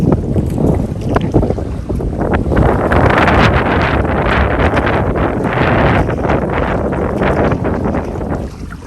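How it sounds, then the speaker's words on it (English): Strong wind roars and buffets the microphone in continuous heavy gusts, loud and close, with rushing water underneath, on a lake during a canoe trip in Algonquin Park. "The wind just pushed my boat sideways all of a sudden."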